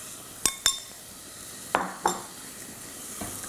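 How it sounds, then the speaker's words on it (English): Tomato paste and onions stirred in a pan for tomato and rice soup, with four sharp scraping clinks of a utensil against the pan over a soft sizzle, close and distinct. "just mix the onions through it"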